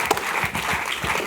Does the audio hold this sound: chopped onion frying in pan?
no